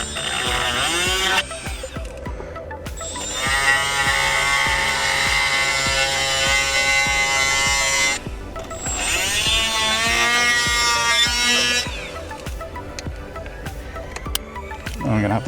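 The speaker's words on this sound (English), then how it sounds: "I'm just gonna hit it with die grinder to see how much we can take out of this" A die grinder works on metal inside a car during a dash installation, its high whine sustained in long bursts with short pauses between, close and loud.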